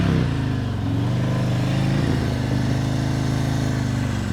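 Motorcycle engine idling and running at low RPM during a slow-speed U-turn, a steady close rumble with slight throttle blips, alone without talk.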